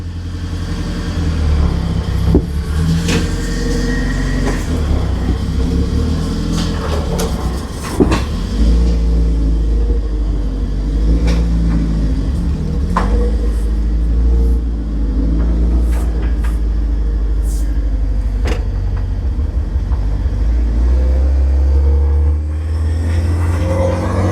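A boosted Geo Tracker drop top on its first drive, its engine rumbling loud and close from inside the cabin, rising and easing as it accelerates over about twenty-four seconds with road noise underneath.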